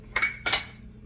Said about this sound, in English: I'm just finishing stirring these up.